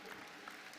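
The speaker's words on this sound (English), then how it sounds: "I'll give her a round of applause." Applause from the audience at a USANA general session for an athlete on stage, a short steady wash of clapping with no voices on top.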